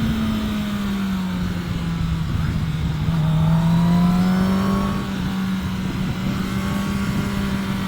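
A 2024 Kawasaki Ninja ZX-10R sportbike on a mountain ride, its engine droning steadily and loudly close up with smooth pitch rises and dips under light throttle, wind rush throughout.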